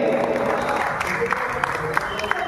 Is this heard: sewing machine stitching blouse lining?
no